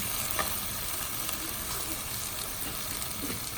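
Tomato paste cooks in a pan with peppers and onions for Haitian spaghetti with hot dog and shrimp, giving a dense, even sizzle and bubbling that holds at a steady level.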